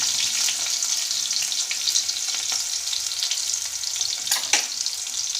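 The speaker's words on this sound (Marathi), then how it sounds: "लसूणचा रंग लाल होईपर्यंत थोडंसं हलवायचं त्याला" Garlic cloves frying in hot oil after mustard seeds, stirred in the pan for a bitter gourd curry; a steady close sizzle with occasional scrapes and crackles, no talking.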